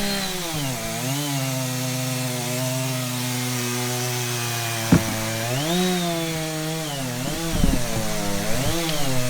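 A big old Stihl 084 chainsaw, rebuilt with a new piston and cylinder, roars steadily while cutting a large log, its engine pitch dipping and rising under load with a few sharp knocks and clatters near the end.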